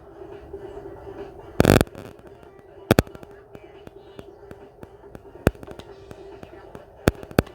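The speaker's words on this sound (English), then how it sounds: "So the Flamethrower comes off." A Flamethrower attack goes off in a Pokémon battle game as a short, loud roaring burst of fire, followed by sharp game impact clicks spread across the rest of the moment over a low steady background tone.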